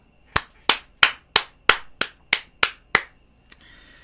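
During a sales coaching lecture, a group claps in unison: nine sharp, evenly spaced claps in a steady rhythm, followed by a pause and one lone, softer clap.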